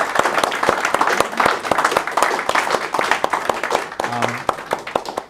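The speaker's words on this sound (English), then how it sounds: "And I think we just give a round of applause to Dominic." Audience applause after a talk on the internet, with steady, dense clapping at fairly close range for several seconds while a voice speaks over it.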